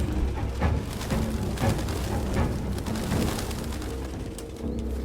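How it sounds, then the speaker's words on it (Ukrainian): Pigeons coo repeatedly in a busy, noisy scene in the video game Detroit: Become Human, their low calls blending with a steady wash of ambient game sound. "Всюди ці срані голуби."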